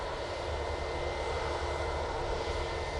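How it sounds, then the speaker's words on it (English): A Lufthansa Airbus A321 jet produces a constant, loud engine roar with a steady whine and rumble, unbroken for the whole short stretch. "Lufthansa A321."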